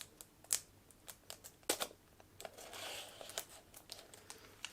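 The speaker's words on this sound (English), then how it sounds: "What I might do is just grab the scissors and slit across the top." Scissors slit across the top of plastic packaging with quiet crinkling, snipping and scattered sharp rustles, close up and faint, with no talking.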